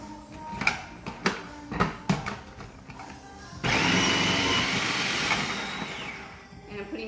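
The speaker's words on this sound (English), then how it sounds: "What I love about the food processor is that they come like strings" A food processor shreds potatoes for baked latkes: a few sharp chopping pulses come first, then a loud continuous motor whir with grinding.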